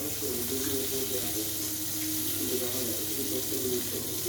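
Water trickles steadily into mustard paste while it is thinned for a ridge gourd and fish curry, a continuous close splashing pour with no break.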